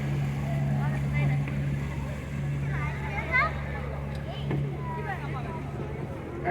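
Cruise boat travelling near Point Frederick in Kingston, Ontario, a steady low engine drone with water and wind noise throughout, and people talking faintly in the background.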